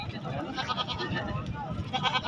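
Goat bleats at a busy goat market held the first market after Eid, repeated harmonic cries rising over a constant din of nearby crowd chatter.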